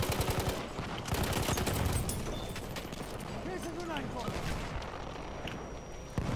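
Rapid automatic bursts from a gas-operated, belt-fed SMG prototype in a video game, crackling shots packed close together over a busy battle mix while a voice talks.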